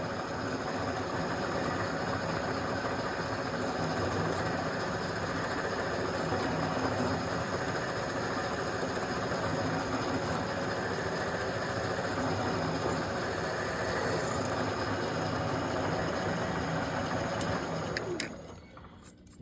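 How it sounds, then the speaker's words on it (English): A machine drills a starter hole during a Harig surface grinder repair, a steady droning motor hum with faint vibration running for nearly twenty seconds before cutting off abruptly near the end. "I'll put my starter bit in, drill it, and just repeat that for the other three processes"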